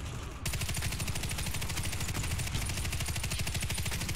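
An M249 Para Gold machine gun fires during a firefight in the video game Warface, a loud, rapid, unbroken rattle of shots that starts abruptly and runs to the end.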